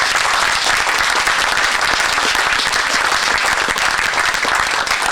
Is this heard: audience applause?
yes